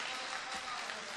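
Audience applause at a mushaira poetry recital in Chandur Bazar, Amravati, a steady, dense wash of clapping from a crowd that holds at an even level for the whole moment.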